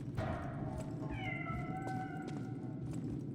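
A cat meows in the video game Lies of P: Overture, a drawn-out cry that rises and falls over a steady low ambient hum and mild background noise.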